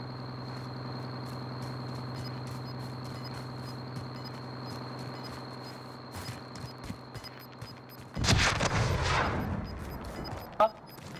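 Call of Duty battle royale gunfire and an explosive burst near a sniper tower: steady game hum with faint ticking, then a sudden loud blast with sharp crackling shots and one late crack.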